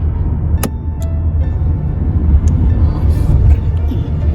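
A car drives steadily along a road, a continuous low engine and tyre rumble holding throughout with a few faint brief clicks on top and no talk.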